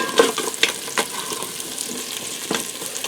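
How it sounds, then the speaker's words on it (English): Fresh rosemary being stirred into potatoes in an Instant Pot, with a few sharp scraping strokes against the pot over a steady soft sizzle, close and fairly loud. "And I'm just going to stir that in quick."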